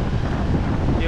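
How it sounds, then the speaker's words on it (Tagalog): Strong wind buffets a beach campsite with a tent and table, producing a dense, rumbling roar across the microphone, steady and loud throughout with no clear voices. "Kasi yung hangin malakas."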